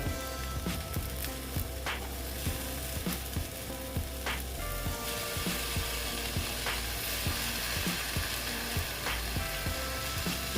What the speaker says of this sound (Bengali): এখন আমি দিয়ে দিচ্ছি সর্ষে বাটা